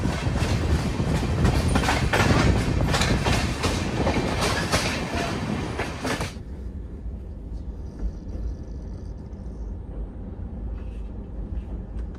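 Vidarbha Express passenger train running on Indian Railway track, a loud steady rumble and clickety-clack for the first six seconds, then dropping to a quieter, muffled rolling drone.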